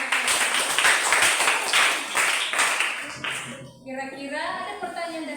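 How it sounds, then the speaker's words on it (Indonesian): Schoolchildren in a classroom clap for a student group after its presentation, a short burst of fairly loud applause that fades after about three seconds as a teacher's voice takes over. "tepuk tangan dulu buat kelompok"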